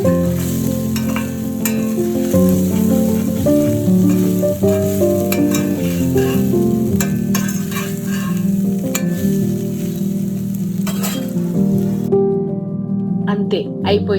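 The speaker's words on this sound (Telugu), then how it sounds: "జస్ట్ ఒక 1/2 మినిట్ లిడ్ లేకుండా ఫ్రై చేద్దాం." Prawns fry uncovered in AMC cookware with a loud continuous sizzle and the clatter of stirring, while a person talks over the cooking before the sizzle abruptly cuts out near the end.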